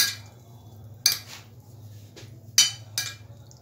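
A utensil stirs potatoes in oil and spices in a pan, giving four distinct metallic clinks and scrapes spaced irregularly over a faint steady low hum.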